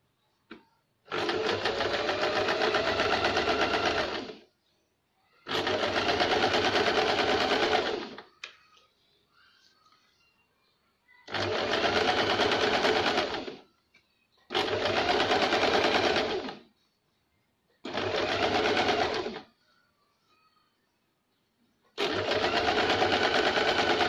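Double-line stitching on a blouse with a sewing machine: six crisp, loud bursts of motor whir and rapid needle clatter, each a few seconds long, split by near-silent pauses.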